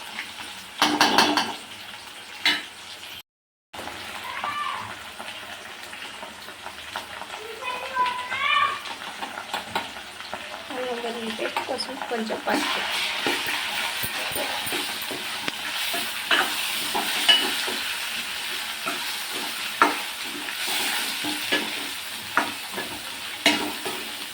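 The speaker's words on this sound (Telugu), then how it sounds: "ఫస్ట్ వేపుకుంటే టేస్ట్ మంచిగా ఉంటాయి మునక్కాయ గుమ్మడికాయ కొద్దిగా అల్లం వెల్లుల్లి పేస్ట్ పసుపు వేస్తాను" Drumstick and pumpkin pieces fry in a pan with ginger garlic paste and turmeric, a steady sizzle with stirring and scraping running throughout, while a voice talks intermittently over the cooking.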